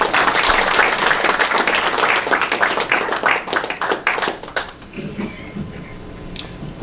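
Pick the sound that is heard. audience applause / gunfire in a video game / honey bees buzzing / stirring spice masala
audience applause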